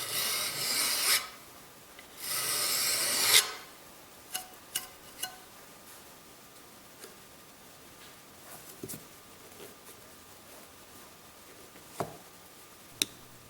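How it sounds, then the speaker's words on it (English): A sharpened nail on a compass scratches through lacquer on brass in two raspy strokes of about a second each, followed by faint scattered ticks and taps in a quiet room. "the compass lead has been replaced with a sharpened nail so that I can scratch the brass"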